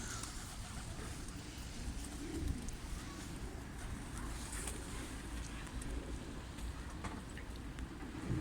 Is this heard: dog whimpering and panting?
no